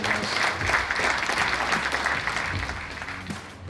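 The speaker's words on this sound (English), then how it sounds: "Big round of applause" Audience applause at a hockey event, steady dense clapping from a crowd that holds for several seconds and eases slightly toward the end, with a brief voice breaking through.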